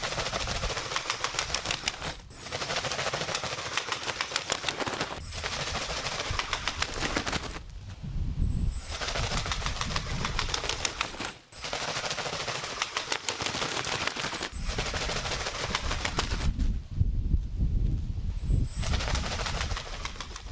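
A homemade ornithopter built with card tail parts stuck on with tape beats its wings in flight, giving a rapid, steady flutter that runs in long bursts and breaks off briefly several times, heard up close outdoors.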